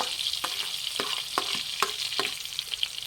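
Finely chopped onions fry in melted butter with a piece of cinnamon stick, giving a steady, close sizzle broken by repeated scraping strokes of a spoon stirring the pan, with no voices.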